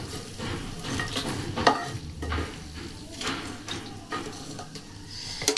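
Peanuts and lentil badi frying in oil in a pan, a soft continuous sizzle broken by scattered stirring scrapes and light clinks of utensil on metal, fairly quiet and close.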